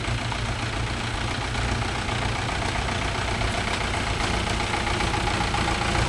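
A Mahindra 575 DI tractor fitted with cage wheels runs in a rice field, its diesel engine a steady, loud, continuous chugging rumble with no pauses and no talking.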